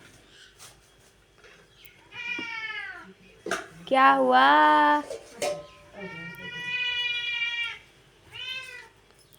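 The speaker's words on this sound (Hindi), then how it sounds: "ये तो पीछे से हमारी बिल्ली की भी आवाज़ें आने लग गई।" A pet cat meows repeatedly in the background, several drawn-out, rising-and-falling calls spaced across the stretch, the loudest in the middle, with a brief spoken question and room noise around them.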